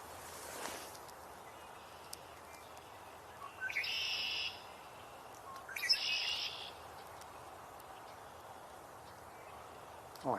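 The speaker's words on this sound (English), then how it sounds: "I hear a red-bellied woodpecker." A red-bellied woodpecker calls outdoors on a spring walk, two rolling, fairly faint churring bursts midway through, plus a brief sound at the start, against a quiet hiss of open air.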